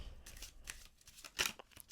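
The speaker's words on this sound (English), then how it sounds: "you can do overhand shuffles as long as you keep that card on the back" Playing cards being given an overhand shuffle in a close, quiet card magic setting: a series of soft, brisk riffling slaps and flutters spread across two seconds, with one louder burst near the middle and no talking.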